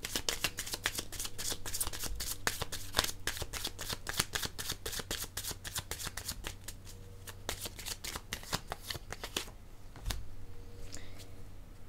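Playing cards being handled and shuffled to draw a pink card, a rapid run of crisp riffling snaps close by, slowing into a few softer shuffles near the end.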